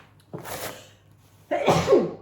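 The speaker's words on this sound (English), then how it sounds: "I'm going to sneeze." Two-part sneeze: a short sharp intake followed by a loud, explosive burst, close and alone.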